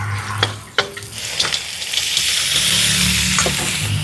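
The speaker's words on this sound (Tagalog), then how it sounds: "Pero para mas mabango, igigisa ko po muna." Eel cooking in a pan for adobo with chili and vinegar, beginning with a few sharp clinks and scrapes before a loud, steady sizzle swells and holds, with no voices.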